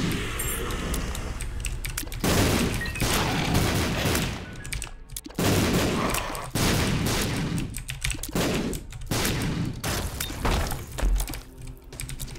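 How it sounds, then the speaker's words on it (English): Scatter bombs exploding in The Binding of Isaac: Afterbirth, a dense run of loud, close game blasts and impact thumps that burst repeatedly over about twelve seconds with almost no pause. "Oh no, no, no, no, not scatter bombs."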